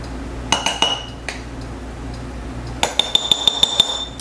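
A metal teaspoon clinking against small glass jars while measuring out an ingredient, a few scattered taps followed by a quick run of bright, evenly spaced ringing clinks, close and alone without speech.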